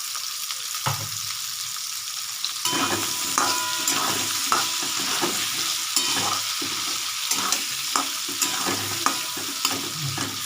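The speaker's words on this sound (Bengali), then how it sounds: "আলু পেঁয়াজটা একসঙ্গে ভাজা হচ্ছে" Potato and onion stir-fry in fish oil left over from frying pabda fish, a steady broadband sizzle with repeated scraping stirs of the spatula, close and continuous with no talking.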